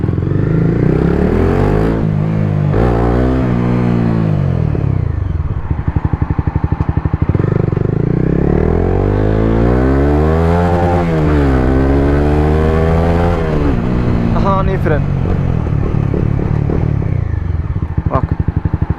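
A Honda CBR 250 motorcycle ridden close up, its engine revving up through rising and falling pitch sweeps as it accelerates and slows to stops, loud and continuous with brief voice bits.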